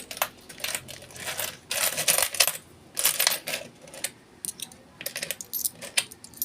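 Coins clatter into the slot of a pisonet coin-operated timer, a series of sharp metallic drops and clinks arriving in irregular bursts, close and distinct.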